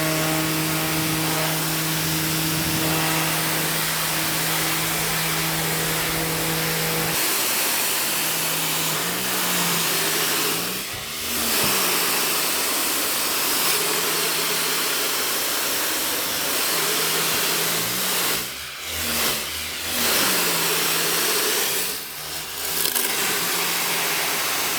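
A Patoolio pressure washer hisses steadily and loudly while cleaning road salt from a truck, with an engine-like hum early on and several brief sweeping bursts as the spray shifts across surfaces.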